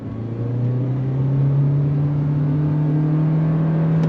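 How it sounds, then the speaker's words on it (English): A 2023 Toyota Corolla Cross Hybrid accelerating from a dead stop, its engine drone rising steadily in pitch as it builds speed, a smooth continuous hum heard from inside the cabin without talk. "But let's go on throttle from a dead stop."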